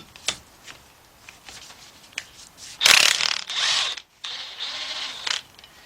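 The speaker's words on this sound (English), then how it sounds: "So I'm going to use my 18mm socket. Put my cordless gun." A cordless impact gun with an 18mm socket loosens the camshaft gear bolt on a Volkswagen Beetle engine. There is a loud burst of rattling hammering, a short gap, then a softer spin-down among light tool clatter.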